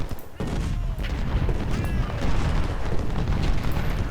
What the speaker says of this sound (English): Our 20-pounders can refocus their fire on Johnson.